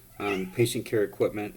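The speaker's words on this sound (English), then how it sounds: "That's my cat meowing over there." A house cat meowing in the background while a person talks over it, the meows partly blended with the speech.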